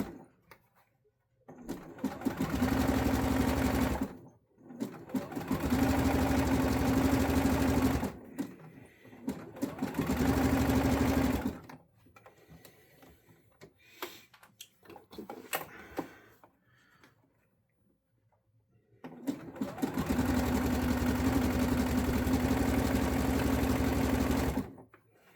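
A sewing machine stitches 1.5-inch waistband elastic in four steady runs of a few seconds each, separated by short pauses. Each run is a close, loud, rapid mechanical whir.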